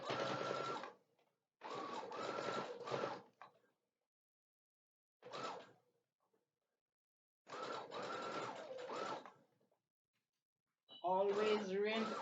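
A sewing machine forward-stitches, then reverse-stitches to reinforce a dart in denim pants. Several loud, close bursts of rapid needle clatter are separated by short silences, and a different whirring burst comes at the end.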